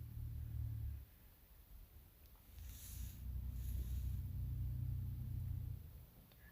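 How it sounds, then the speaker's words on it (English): Cars passing by outside, heard as a low, steady rumble that swells and fades over several seconds with no talking. "Sorry if you hear the cars going past."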